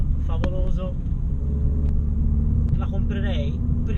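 Renault Clio RS18 with an Akrapovic exhaust, a continuous low engine rumble with a couple of sharp pops, under someone talking.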